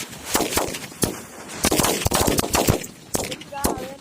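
Firecrackers set off with an electric switch instead of a flame burst in a rapid string of sharp, loud cracks, several spaced bangs with quick rattling volleys between them, while people talk in the background.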